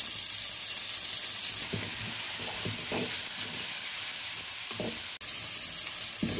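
Minty fish masala sizzles steadily in a frying pan, a loud continuous hiss close up, with a few soft stirring scrapes and a brief clunk near the end.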